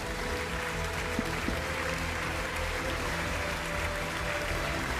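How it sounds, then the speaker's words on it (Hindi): A steady wash of studio audience applause welcoming three judges onto a televised political debate show, even and moderately loud throughout with no talking over it. "सबसे पहले तालियों के साथ स्वागत करते हैं अपने तीनों जजेस का"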